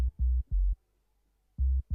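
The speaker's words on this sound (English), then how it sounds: "which is the sub that sits underneath it, and it's just this 808 going like this." Four short, heavy 808 sub-bass hits in a grime beat, arriving as two pairs separated by a brief gap, each low boom cut off abruptly with no other sounds around it.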